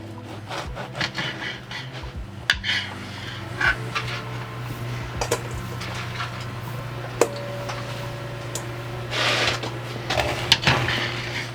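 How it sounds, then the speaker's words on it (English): A knife cuts bread into small crouton cubes on a wooden board, giving a run of scattered dry taps and soft scraping strokes at close range, with a low steady hum underneath. "And then we're just gonna cut this into the size cubes that we want for the croutons."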